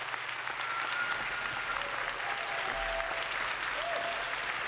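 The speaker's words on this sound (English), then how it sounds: "give yourselves a round of applause" Sustained applause from a live-show audience closing out an NES retro gaming happy-hour stream, a steady dense wash of clapping at moderate level with faint scattered voices underneath.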